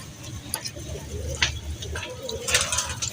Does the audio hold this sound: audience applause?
no